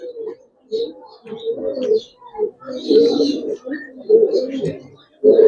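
Giribaz pigeons coo in repeated low, throaty bursts, close by, while someone talks over them at a pigeon market stall.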